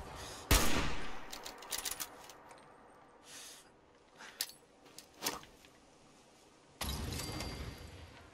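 Gunfire in the video game Fallout 4: a sharp loud shot followed by scattered bursts and single cracks at irregular intervals, then a sustained burst near the end, over quiet ambience with no speech.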